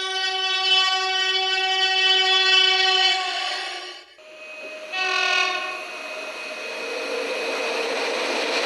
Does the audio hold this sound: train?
yes